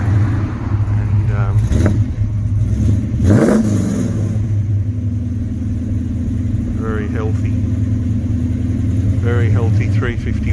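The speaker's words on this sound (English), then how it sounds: "Now you can hear it drive off" A 1970 XY GT Falcon replica with a healthy 351 V8 of about 400 horsepower revs loudly and pulls away nearby, a deep rumble with sharp throttle bursts before settling into a steady drone.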